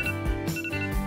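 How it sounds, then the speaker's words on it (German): An alarm clock rings with a quick run of repeating electronic tone pulses, fairly loud and close, cycling a few times in about a second. "der Wecker. Oh, es ist wohl Zeit zum Aufstehen."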